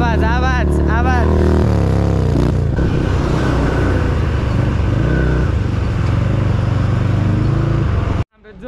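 A motorcycle idles and roars continuously at the Thankot jatra festival, a loud, dense engine drone lasting several seconds before cutting off abruptly, with voices talking over the start.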